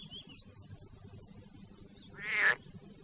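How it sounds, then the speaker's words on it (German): A cricket chirps in short, bright pulses, four quick bursts of trilling close by over a low background rumble, followed by a separate rising, whistle-like sweep near the end. "Ganz anders wiederum macht's die Grille. Sie zirpt."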